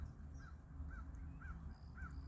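Crows caw four times in an even rhythm, each call short and faint at a distance, over a low background rumble.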